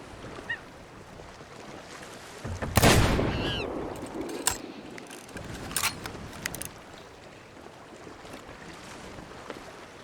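Cannon fire in the pirate game Sea of Thieves: one loud, broad boom with a decaying rumble, then several sharper impact cracks and clatters over a noisy background.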